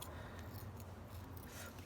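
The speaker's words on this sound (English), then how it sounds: "Now I'm going to cut the excess tulle off." Scissors snip through excess tulle fabric on a handmade fairy costume for a doll, a quiet, steady rasping of the blades over a low background hum.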